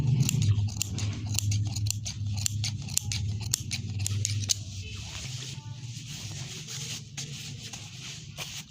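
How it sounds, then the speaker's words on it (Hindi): Scissors snip through fabric while a garment is cut out, giving a rapid run of close, crisp cuts followed by softer rustling and slower snips. "अब इस पर हम गोलाई में कट लगाकर सीधी साइड पर पलट देंगे।"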